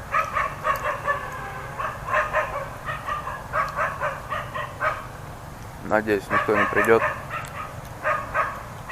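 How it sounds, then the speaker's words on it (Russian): Several dogs bark repeatedly around a tent pitched in a wooded roadside tree belt in northern Vietnam at night, steady rhythmic woofs at moderate distance with a sharper burst of yelps later, while someone speaks quietly over them. "Тут собаки только делают мозги."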